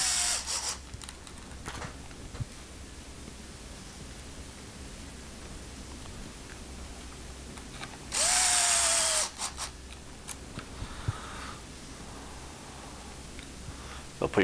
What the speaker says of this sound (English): You'll install the two screws you previously took out.